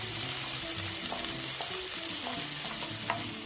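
Garlic, green chillies and shallots sauté in a pan with a steady sizzle and occasional scrapes of stirring, moderately close and without talk.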